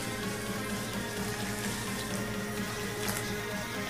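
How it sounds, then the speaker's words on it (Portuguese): Water pours steadily into a bowl of cornmeal dough being mixed for a fubá recipe, a constant close splashing rush with no talking. "Vamos adicionar um pouco de água."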